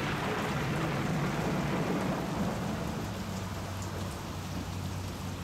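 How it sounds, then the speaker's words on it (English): Steady rain pours down with a low rumble of thunder underneath, a continuous dense hiss that fades slightly toward the end. "It's better if we wait until the rain stops."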